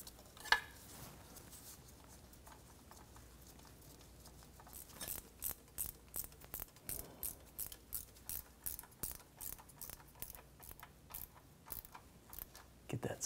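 A ratchet snugs a bolt on the thermal bypass valve of a 2015-2020 GMC Yukon XL's transmission, a close, steady series of quick clicking strokes that starts after a quiet lead-in and runs to the end, with no talk.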